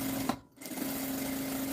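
Sewing machine running steadily as it stitches close along the edge of a fabric pocket on a children's document holder, a continuous close whir with a brief pause near the start.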